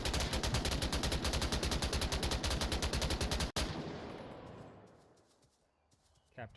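Rapid automatic gunfire in the Onward VR video game, a loud, dense burst of evenly spaced shots that stops abruptly with a sharp crack, followed by a fading echo tail and a few faint later sounds.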